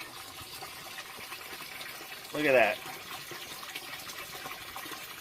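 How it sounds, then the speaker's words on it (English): Water flows steadily out of a cut-open French drain in a saturated yard, a constant low rushing under a brief spoken remark. "Look at the water pouring out of this yard."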